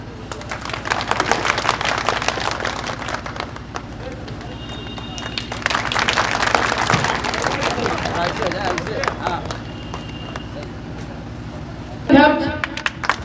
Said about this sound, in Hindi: तालियों की ग्रहण पूरी तरह से भरपूर दिया जाए